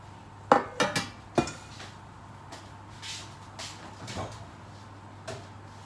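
Baking pan taken out of a kitchen cupboard for banana bread, a few sharp metallic clanks and knocks in a quick cluster early, then softer scattered clinks and a thud, against a low steady hum.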